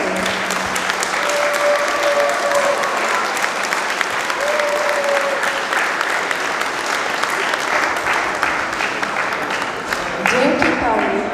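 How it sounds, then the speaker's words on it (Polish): A school year-end ceremony audience gives sustained applause, with dense, continuous clapping from many people filling the room and a few voices briefly audible over it. "Prosimy o brawa!"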